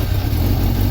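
A Suzuki GSX400F Katana motorcycle engine running loud and close, a steady low rumble with no talking.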